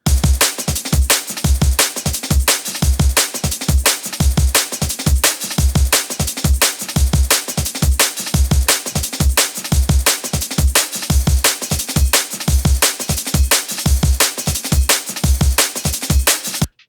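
Fast, driving drum and bass breakbeat with punchy kicks and crisp snares, an old-school rolling break looping steadily and loud throughout with busy cymbal hits on top.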